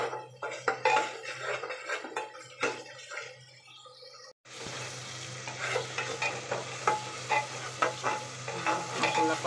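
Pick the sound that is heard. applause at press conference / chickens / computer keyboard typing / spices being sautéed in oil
spices being sautéed in oil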